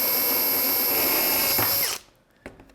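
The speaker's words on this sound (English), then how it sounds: "then we'll just drill through on this side" A power drill bores through aluminum, its loud steady whine running for about two seconds before cutting off, followed by a faint tap and quiet room sound.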